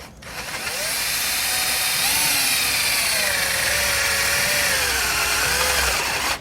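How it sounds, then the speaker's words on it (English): A power drill whines steadily and loudly, its pitch wavering slightly as it bores into the metal front of a 2019 Mini Cooper for several seconds without pause. "So now we're just going to drill it straight in."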